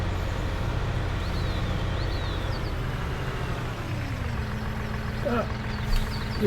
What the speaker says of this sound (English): Engine revving is.